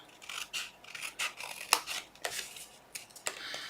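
Scissors cut along a score line of a cardboard box, a close series of short, crisp snips and rasping cuts coming in an uneven rhythm.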